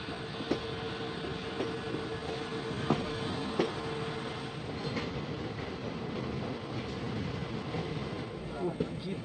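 Poorna Express hauled by four locomotives in hilly country, heard as a steady broadband rumble of running train with occasional sharp clacks, continuous and fairly close throughout.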